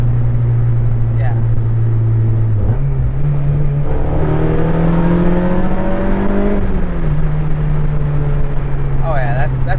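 A 2007 Honda Civic Si revs through its exhaust, a steady droning tone that climbs in pitch, holds, then eases back down, loud and close, with people talking over it.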